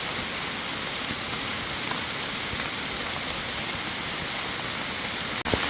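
Steady rain pouring in a forest during mushroom foraging, a dense even hiss throughout, close and continuous, with a brief knock near the end.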